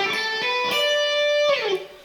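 Electric guitar playing a quick minor pentatonic lick, a few picked notes joined by hammer-ons, pull-offs and a sliding bend, ringing and close without any voice.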